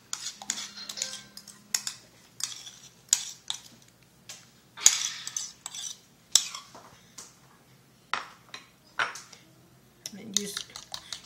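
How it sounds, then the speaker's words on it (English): Fork clinking against a bowl while eggs are mixed for Lao baked eggs, a series of light, irregular metallic taps and scrapes, fairly quiet and close. "So I would mix this. Mix it in my eggs."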